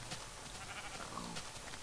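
Minecraft sheep bleat a few times in quick succession, faint and wavering game bleats with no talking over them.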